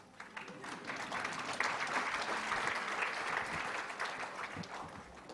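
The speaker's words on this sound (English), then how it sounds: "huge round of applause for everyone, please" Sustained audience applause at the Global Food Regulators Summit 2025, a broad steady wash of many hands clapping that swells quickly and holds at a moderate level for several seconds without talk.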